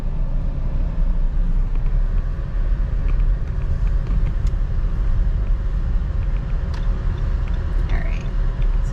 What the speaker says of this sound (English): we got a little bit of traffic here